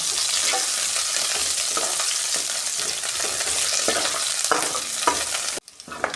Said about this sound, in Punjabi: ਤੜਕਾ ਸਾਡਾ ਭੁੱਜ ਗਿਆ